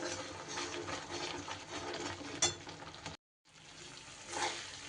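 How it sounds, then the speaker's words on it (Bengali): Spice paste for doi potol frying and sizzling in a pan over a raised flame, a dense crackling sizzle with brief stirring scrapes and a short break. "গ্যাস বাড়িয়ে খুব সুন্দর করে কিন্তু আমি মশলা কষিয়ে নিচ্ছি"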